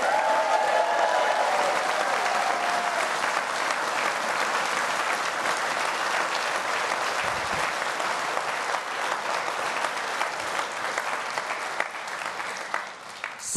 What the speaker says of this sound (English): And can we have a round of applause, please, for our excellent local candidates, Byron Taylor and Katie Block.